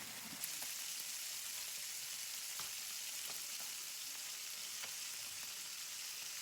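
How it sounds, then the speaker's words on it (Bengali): Seven bata fish fry together in a pan, producing a steady, even sizzle with faint scattered crackles and pops, heard alone at moderate distance. "তো মাছটা ভাজা হোক একটি, তারপর আবার ফিরে আসি।"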